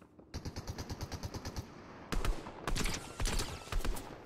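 Fortnite gunfire plays as a fast, evenly spaced burst of about a dozen sharp shots, followed after a short pause by heavier, louder irregular volleys of shots and impacts, close and with no one talking.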